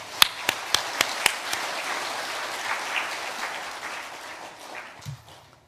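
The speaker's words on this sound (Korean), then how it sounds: "하나님을 향해 다시 한번 감사의 박수를 올려드리겠습니다" Church congregation clapping at a Thanksgiving and church anniversary service: several sharp early claps swell into a dense round of applause from the pews, which gradually thins and fades.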